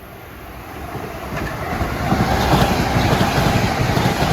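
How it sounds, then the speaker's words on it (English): An LIRR M9 commuter train runs westbound through New Hyde Park station at morning rush, its rumble and rail clatter swelling steadily louder as it nears and holds a broad, rushing roar with no voices. "approaching Westbound at 7:18 is train 1515, Huntington to Penn Station"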